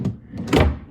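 A drawer in a hotel room slides open with a short wooden scrape and knock, close and fairly loud, a brief bump then a fuller rumbling slide.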